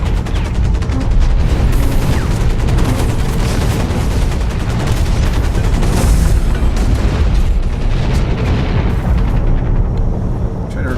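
Sustained gunfire from a mech's machine gun in the video game Hawken, loud and continuous with booming impacts and explosions running through the whole stretch.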